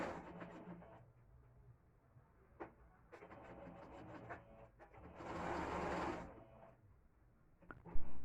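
Sewing machine topstitching a viscose blouse neckline, running in steady bursts with short pauses and a louder, faster stretch near the end, close up.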